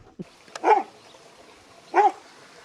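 A dog outdoors on a riverside cycling route barks as a cyclist passes: two separate, fairly close barks about a second apart over soft background hiss.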